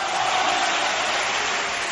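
A studio audience gives a round of applause, a dense, steady wash of clapping heard alone for a couple of seconds.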